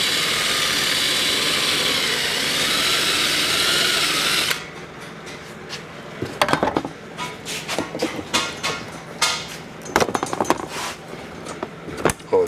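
A power drill whines steadily for several seconds, drilling out a rivet on the rear bumper cover of a 2013 Mercedes-Benz E-Class, then stops, followed by close clatter and handling noises.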